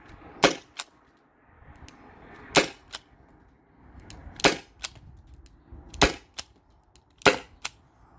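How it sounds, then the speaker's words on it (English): Five sharp, loud shots from a Byrna SD launcher upgraded with a 12 gram CO2 cartridge, fired at even intervals of about one and a half seconds, each followed by a short metallic click, with quiet pauses between. "So this is the 7th magazine. So this is shot 31 through 35."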